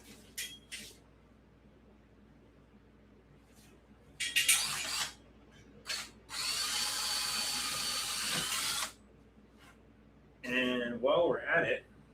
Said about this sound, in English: let's drill out this rivet because we need that clamp right there